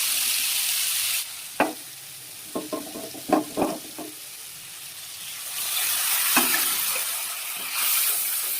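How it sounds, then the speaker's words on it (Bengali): Spice paste of ground cumin, ginger and chillies frying in a pan, a bright sizzle that drops away, then a run of sharp scraping stirs before the hiss swells back up loud and close. "তো আমি তাহলে আগে মশলাটা কষিয়ে নিই, কষিয়ে তরকারিটা করলে বেশি ভালো হবে।"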